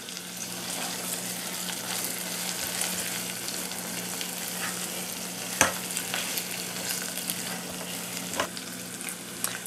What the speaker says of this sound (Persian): حالا گوشت رو می‌ریزیم و تفت می‌دیم.